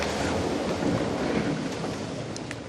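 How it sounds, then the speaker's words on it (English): Atlantic Ocean water rushes past the hull of a racing yacht during the Cape to St Helena race, a loud, continuous broadband wash heard from inside the boat, with no talking. "right outside this panel here, if you listen, you can hear the Atlantic Ocean going past."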